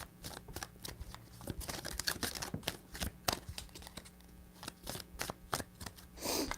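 Tarot deck shuffled up close, a dense run of quick papery taps and slaps at an irregular, busy rhythm, fairly quiet and alone.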